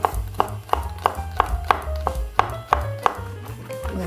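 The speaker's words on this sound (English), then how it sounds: "Give them a fine chop." A knife finely chops garlic on a cutting board in a steady run of about a dozen sharp, close knocks, alone without talk.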